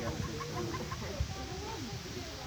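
Baby ducklings peep and chirp aboard a canal boat on a Franklin County, Indiana canal, small soft calls over a steady engine hum while people talk nearby.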